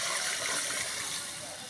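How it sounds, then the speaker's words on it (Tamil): Water pours into a pot of rice for vegetable biryani, a steady, close splashing gush that stays fairly even and eases slightly toward the end. "நல்ல ஒரு டம்ளர் அரிசிக்கு 2 டம்ளர் தண்ணி ஊற்றிக்கலாம்."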